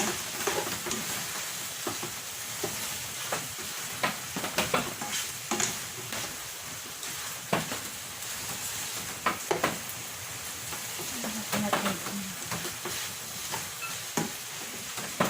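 Chunks of beef for a Filipino kaldereta fry in a hot pan with a steady sizzle, broken up by repeated scraping and clinking as a utensil stirs the meat. No voices are heard.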